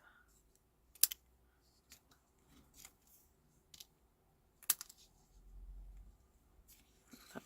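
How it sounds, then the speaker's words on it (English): Scissors trim paper card in a quiet room, giving a few sharp, faint snips spaced over several seconds with small rustles between them. "So I think I'll just trim these off."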